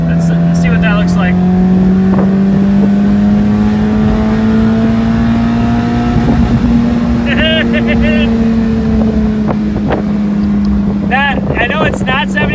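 Mazda Miata engine revving up toward a raised rev limiter, a loud steady drone whose pitch rises slowly and then eases back, with faint voices talking in the background.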